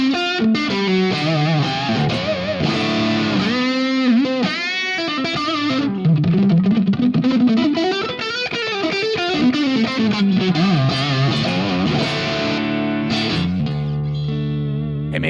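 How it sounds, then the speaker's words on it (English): Electric guitar played through a Fractal Axe-Fx III with a Compulsion distortion drive, a sustained, heavily driven tone with bends, slides and ringing chords, washed in reverb and echo, playing alone without talk. "you can use any kind of drive before to produce any desired distortion, like, for example, the compulsion distortion."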